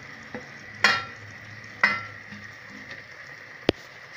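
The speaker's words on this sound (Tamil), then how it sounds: "இப்போ நான் வந்து அதில் காளான அதில் போட்டுறேன்" Mushrooms tipped into a pot with yogurt for mushroom biryani, giving a low steady sizzle broken by two scraping stirs and a sharp metallic clink near the end, close up; no talking.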